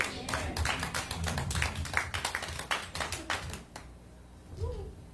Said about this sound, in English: Let's give God a mighty clap offering.